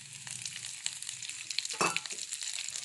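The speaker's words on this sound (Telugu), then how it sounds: "ఎండుమిర్చిని ఫ్రై చేసుకోండి." Dried red chillies frying in a pan give a soft, steady sizzle with faint crackles and one brief louder scrape, quiet and close with no voices.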